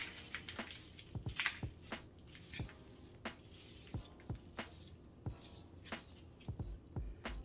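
Snake plant roots being shaken over a pot after root rot, giving a run of soft rustling, crumbling soil bursts and light knocks in an irregular rhythm, close and fairly quiet.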